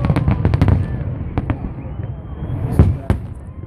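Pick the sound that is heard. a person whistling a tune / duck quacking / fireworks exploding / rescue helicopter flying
fireworks exploding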